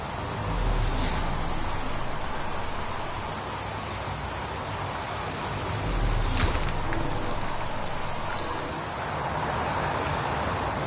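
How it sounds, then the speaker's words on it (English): Steady rain falls at a crime scene in the video game Heavy Rain, a constant close hiss of drops on surfaces that swells and eases a little, with no voices. "Does it always rain like this?"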